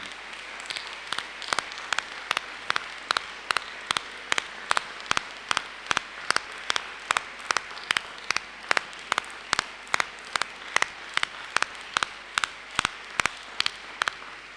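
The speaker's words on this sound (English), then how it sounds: "I think our staff deserve a big, big round of applause this evening." An audience at a school valediction evening applauds its staff, with a steady, even beat of sharp claps at about two per second over a broad wash of clapping that runs the whole length.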